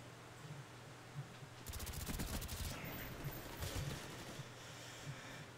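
Automatic gunfire in Call of Duty Black Ops rattles in a quick burst and then in scattered bursts, fairly faint and distant against a quiet game background.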